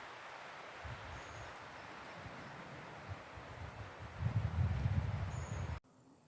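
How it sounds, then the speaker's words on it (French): Wind rushing through fir trees in a forest at the Col des Baraques mountain pass, 1072 m up, in a broad, steady hiss, swelling louder toward the end before cutting off abruptly. "Il y a le vent dans les sapins."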